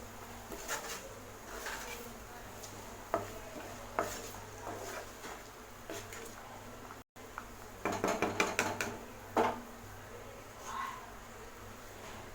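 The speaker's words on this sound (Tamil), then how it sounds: "உப்பு போட்டு நல்லா மிக்ஸ் பண்ணி விட்டுருங்க" Vegetables including cabbage being stirred with salt in a pan for rava kichadi, a spoon scraping and clinking against the metal in short bursts, with quiet bursts of clatter toward the end over a steady low kitchen hum.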